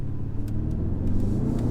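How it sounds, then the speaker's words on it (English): A 2021 Mercedes-AMG GLS 63 SUV engine rumbles steadily with a deep, throaty exhaust note, holding a loud, continuous drone as the vehicle accelerates. "You can hear that exhaust back there."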